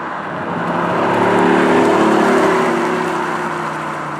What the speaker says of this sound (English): It sounds like a nice V8.